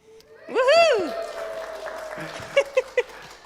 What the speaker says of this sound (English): There's the cheering.